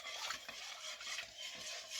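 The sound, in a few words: stirring bread ingredients (sugar) in a bowl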